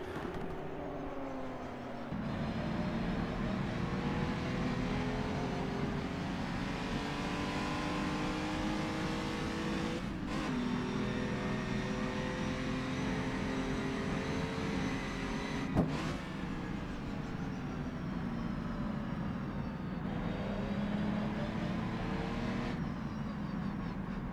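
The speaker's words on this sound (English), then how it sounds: "just watch the cars, enjoy the noise, enjoy the scenery" Racing cars on the Dundrod Tourist Trophy circuit give a continuous loud engine drone, with gear changes shifting the pitch and several sharp upshift breaks as cars accelerate.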